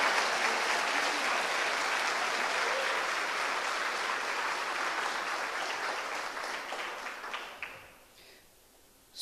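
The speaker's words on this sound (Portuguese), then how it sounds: "Você pode aplaudir Jesus por esse ato?" A church congregation bursts into sustained applause, dense and steady clapping filling the room for about eight seconds before tapering off quickly.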